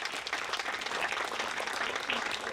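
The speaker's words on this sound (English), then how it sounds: "Please give them a round of applause." Audience at a Diwali lighting ceremony in East Brunswick breaks into steady applause, a dense wash of many hands clapping throughout, moderately loud and fairly near, with no voices standing out.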